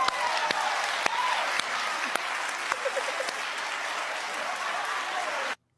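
Studio audience of a daytime TV talk show applauds in a sustained burst of clapping with a few sharp individual claps, cutting off abruptly at the end.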